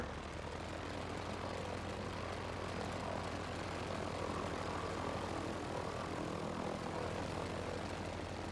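Steady, droning propeller-plane engine in a flight game, a broad continuous hum with low tonal buzz, holding even and fairly loud throughout with no voices.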